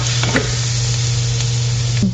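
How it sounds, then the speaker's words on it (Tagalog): Garlic sautéing in butter in a pan, a loud continuous sizzle close up with a low steady hum beneath and a few faint stirring clicks. "Then, igigisa natin ang garlic."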